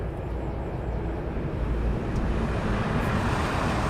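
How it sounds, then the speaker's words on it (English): Aircraft passing at East Midlands Airport, a steady broadband roar of moderate loudness that holds evenly and builds slightly across the whole stretch, with no voices. "this will be the last aircraft of the stream"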